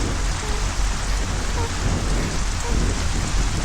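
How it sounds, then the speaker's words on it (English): Steady, heavy rain pouring down as a dense, continuous hiss, loud and close, with no breaks across the clip. "I told you that rain is heavily coming"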